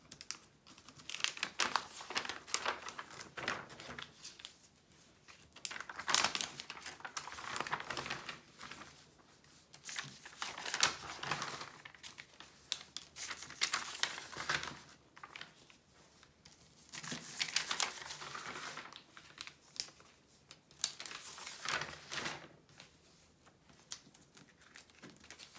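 Protective film is peeled back from a diamond painting canvas, a close crinkling, crackling rustle in repeated bursts over about twenty-five seconds, with no voices.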